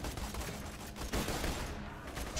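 Sniper rifle gunfire in Borderlands 2, a few sharp shots standing out over a dense, continuous wash of battle noise, loud and close.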